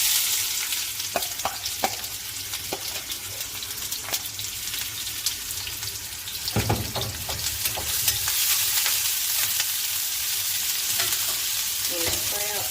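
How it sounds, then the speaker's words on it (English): Onions frying in about two tablespoons of hot oil for chakalaka, a steady close sizzle and crackle with occasional stirring scrapes, loud and continuous with no talking. "So we'll fry our onions."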